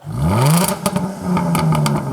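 A 2017 Jaguar F-Type convertible's engine fires up and revs hard, its pitch sweeping upward and then holding in a loud, close roar with a brief dip midway, no voices over it.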